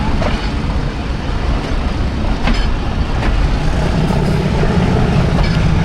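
The Thall Express locomotive and its carriages rumble loudly and steadily as the driver notches up the engine, a continuous close roar with faint rhythmic clicks from the wheels on the rails.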